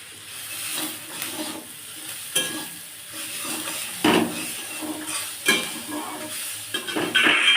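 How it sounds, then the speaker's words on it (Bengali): Ginger and garlic frying in a pan while being stirred, a constant hissing sizzle broken by repeated scraping and clinking strokes of a spoon against the pan, close and fairly loud, with no speech. "আদা রসুন দিয়ে নেড়ে চেড়ে সামান্য একটু ভেজে নেব।"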